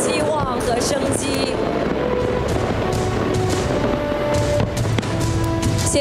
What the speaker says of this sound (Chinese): 现在也让我们一起迎接今天烟火的最终章